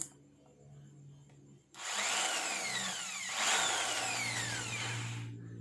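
Ryu RID13-1REB impact drill whirring after a quiet start, its motor pitch sweeping up and down twice as the speed is changed, close and steady with no speech.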